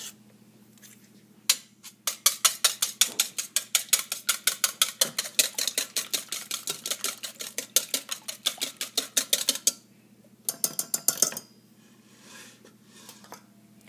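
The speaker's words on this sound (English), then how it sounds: "Beat the egg with the wire whisk." A wire whisk beats an egg in a bowl for French toast: fast, rhythmic metallic clicking strokes that run steadily for several seconds, pause briefly, then resume for a short burst.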